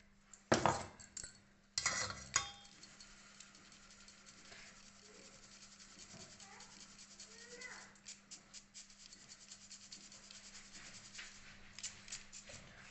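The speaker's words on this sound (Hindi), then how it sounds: "एक मोटी छन्नी से हम इसको छान लेंगे इस तरह से।" Coarse homemade amla powder is shaken and rubbed through a coarse sieve, making a soft, steady scraping hiss after a few sharp metallic clinks at the start, all faint and close with a low background hum.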